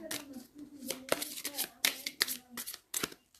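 Tarot cards being shuffled by hand, a rapid run of crisp riffling flicks and soft slaps, close up and fairly quiet.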